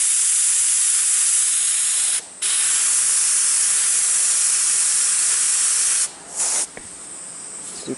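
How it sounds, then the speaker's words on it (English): An air hose hisses loudly and steadily while spray paint goes onto the roll cage of an S14 drift car, with brief pauses where the spray cuts off and then resumes. "stupid air hose."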